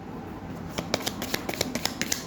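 Tarot cards being shuffled by hand, a soft papery riffle followed by a quick run of crisp flicks and light slaps as several cards fall out together, close and clear with no talking.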